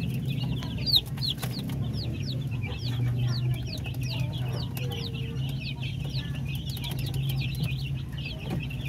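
Native chickens cluck under a steady stream of high, rapid peeping from week-old chicks, close and continuous, with a low farm hum beneath.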